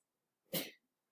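A single short, sharp sneeze, close and fairly loud, surrounded by quiet.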